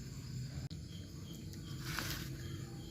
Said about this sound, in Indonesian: Makanya ada suara jangkrik teman-teman